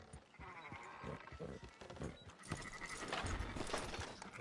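Sheep bleat in Red Dead Redemption 2 over a busy farmyard mix with hoof clops and movement, several calls rising through the clip at moderate loudness.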